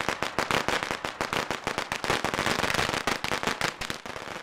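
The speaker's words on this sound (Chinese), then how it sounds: "你听，是放鞭炮，真没事儿。" A rapid, dense string of firecrackers goes off outside, sharp cracks in an unbroken irregular volley lasting several seconds, loud and close with no clear talk.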